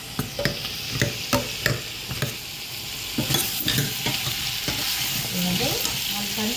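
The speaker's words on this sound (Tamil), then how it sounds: "நான் உள்ளியை போட்டு வதங்குறதுக்காக வடிவாக கலந்து விடுவோம்." Onion sautéing in a pan for a vegetarian curry, a steady loud sizzle with a spoon repeatedly scraping and tapping the pan in quick strokes, close up, no talking.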